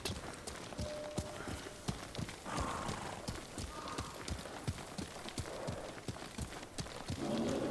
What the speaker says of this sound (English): riding a horse across this bridge